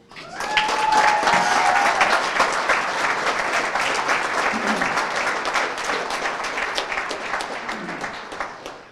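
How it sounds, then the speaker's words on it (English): Sustained audience applause at a law enforcement class graduation ceremony, dense continuous clapping that starts abruptly and holds at a steady level before tapering slightly, with faint voices underneath. "Please do me a favor, don't hold your applause until the end."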